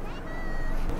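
A cat meowing in an anime episode, one drawn-out, clear meow with people talking over it.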